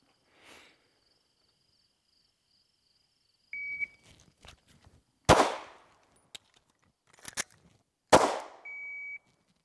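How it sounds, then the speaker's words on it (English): A concealed-carry pistol is drawn and fired, a sharp loud shot, then a slide-lock emergency reload with brief metallic clicks and rattles before a second loud shot; a few faint electronic timer beeps mark the start and end. "getting my gun out, firing a shot, doing a slide lock emergency reload, getting back up and firing one more shot"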